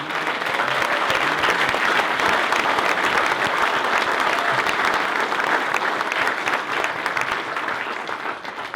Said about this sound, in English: thanks for the warm applause there